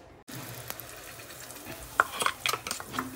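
A tadka of oil, mustard seeds, cumin and curry leaves sizzling in a pan, a steady hiss broken by several quick crackles and spatters toward the end.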